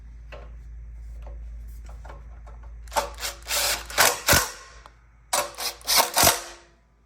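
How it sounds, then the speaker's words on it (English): A flywheel on a Predator 224cc engine is tightened with a power tool, which fires in two clusters of short, sharp rattling bursts after a quiet stretch with faint clicks. "that's how you torque a flywheel"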